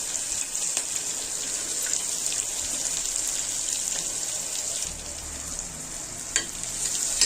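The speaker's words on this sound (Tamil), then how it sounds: "இந்த தாலிப்பு ஐட்டம்ஸ் சேர்த்தாச்சு நல்லா பொறிஞ்சி வரட்டும்" Tempering spices crackling in hot oil for a chickpea and vegetable kurma, a steady close sizzle with a few sharp pops, no talk.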